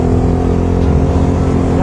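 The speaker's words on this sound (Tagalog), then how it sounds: "Traffic." Steady engine rumble of a vehicle in road traffic, a loud continuous low drone heard from close by with no pauses.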